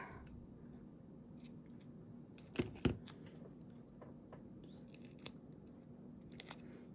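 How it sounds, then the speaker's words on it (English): Scissors cut through card paper in two quick, crisp snips close by, standing out against a quiet room background with a few small handling clicks afterward. "I'm just going to go cut that off"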